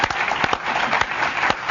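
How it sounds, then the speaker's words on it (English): Studio audience applause on a Channel 4 reality entertainment show, a dense burst of clapping with a few sharper claps standing out, loud and close, lasting under two seconds with no talk. "I think that deserves one of applause."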